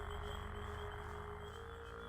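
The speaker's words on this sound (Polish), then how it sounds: "Ale też żaby głośne są." Frogs croak loudly in the video game Gothic 2: Night of the Raven, forming a dense, continuous chorus with a steady pulsing rhythm and no voices.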